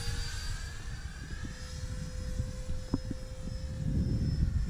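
An E-flite Habu RC jet comes in fast to land on a windy, hot Florida day, its turbine whine holding a steady high pitch over a constant buffeting rumble of wind, with no talking.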